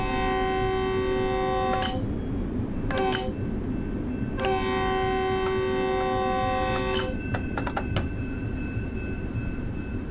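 Intercity train in a Train Sim World 5 game sounds a long multi-tone horn in repeated blasts, with a rumbling run underneath between the horn calls.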